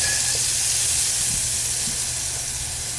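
Butter sizzles in a hot cast iron pan with a loud, steady, close hiss and crackle, unbroken for several seconds and without talk.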